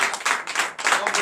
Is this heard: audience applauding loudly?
yes